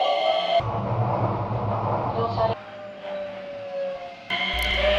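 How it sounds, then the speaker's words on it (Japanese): A JR Kobe Line local train bound for Nishi-Akashi arrives at or departs from a station platform with a low rumbling hum and whine that drops and rises again; voices are heard in the background. "やってきた普通西明石行きの電車に乗車します。"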